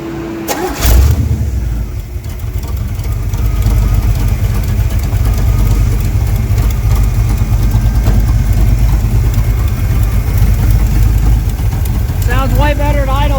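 A 1994 Chevy S10 Blazer V8 after a tune-up fires up with a quick crank and settles into a steady, loud, even idle that runs close by throughout.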